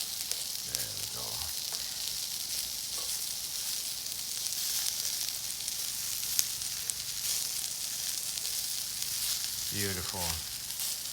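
Zucchini grilling over a high flame gives off a dense, steady sizzle that runs throughout at close range. A voice speaks briefly near the start and again near the end.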